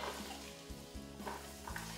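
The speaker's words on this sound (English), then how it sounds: "Now that my olive oil is heating, I am ready to add my onions." Onions sautéing in heated olive oil in a pan, a soft steady sizzle with occasional stirring scrapes and low bumps, quiet and close.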